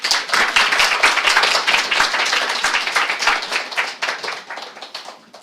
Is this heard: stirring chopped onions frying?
no